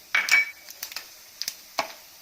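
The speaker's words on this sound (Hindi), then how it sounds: "इसको थोड़ा तिड़कने देंगे।" Mustard seeds, cumin and asafoetida sputter in hot oil over a low flame for an Andhra-style cauliflower pickle, giving a handful of sharp, scattered pops and crackles, close by with no talking.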